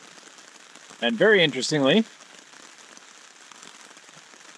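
Steady rain falls on a tent during a solo canoe trip in Woodland Caribou Provincial Park, a soft even patter across the whole stretch, with someone talking briefly near the start.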